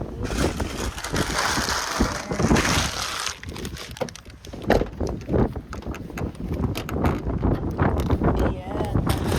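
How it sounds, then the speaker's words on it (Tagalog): Strong seaside wind on Hayling Island buffets the microphone with a continuous heavy roar and gusty thumps, while people talk beneath it. "Oh my god, it's so windy."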